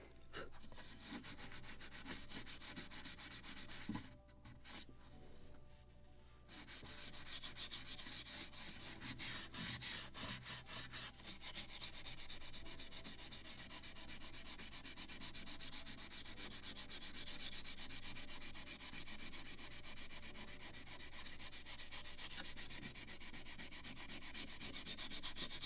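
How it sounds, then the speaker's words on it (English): A Scotch-Brite pad rubs back and forth over the deck of a model of the 1776 gunboat Philadelphia, a long, close, scratchy scrubbing with one short pause near the start and no speech. "make a slight polishing with a Scotch-Brite"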